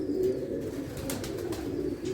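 Steady low cooing from pigeons, likely a flock of sky or flying pigeons, continuous and moderately close with a soft rumbling texture throughout.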